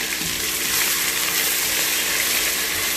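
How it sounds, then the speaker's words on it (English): Sliced onion frying in a pan for chicken curry, a steady close hiss of sizzling oil running evenly throughout with no pauses. "leave it to fry till golden brown"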